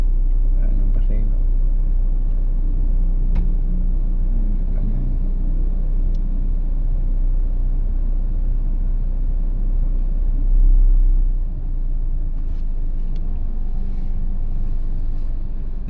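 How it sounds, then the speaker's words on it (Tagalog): Heavy, slow-moving road traffic on Aurora Blvd on a Monday, a steady low engine rumble from nearby idling and crawling vehicles, with people talking over it. "traffic guys. Ayan hindi gumagalaw."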